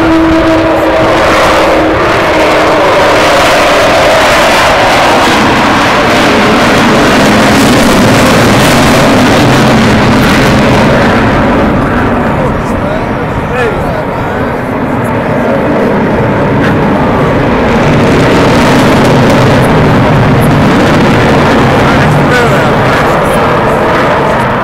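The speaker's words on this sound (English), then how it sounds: "It's worth coming today just to hear that noise, that roar of the engines." An Avro Vulcan bomber roars overhead at an air show, its jet engines producing a very loud, sustained broadband howl that swells and dips as it passes, with faint crowd voices underneath.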